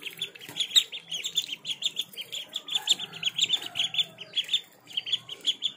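Newly hatched ducklings, hungry and awaiting feed, chirping in a dense, continuous chorus of rapid high peeps, close and lively, with faint rustling beneath.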